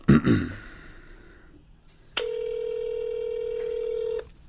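A telephone being dialed: a short burst of breathy sounds, then a brief pause before a steady electronic tone holds for about two seconds and cuts off.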